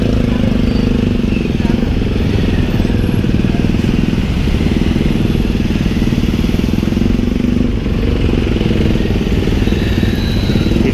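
A motorcycle engine, freshly serviced, runs steadily and loudly throughout while riding on a road near Boudha stupa, with a constant low rumble and no pauses.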